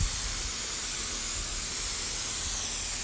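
A continuous, loud hissing spray of water from a hose filling a pool on a windy day, steady throughout with no voices.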